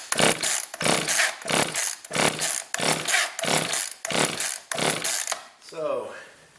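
The pull cord of an Echo 280E chainsaw, long unused and low on compression, is yanked repeatedly with the throttle held wide open. About eight loud, evenly spaced ratcheting pulls turn the engine over, then a softer fading rattle follows.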